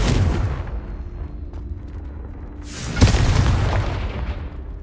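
A Confringo fire spell goes off in Hogwarts Legacy, bursting into a loud, sudden boom with a sharp crack, then a rumbling roar that lingers after a quieter stretch of low game ambience.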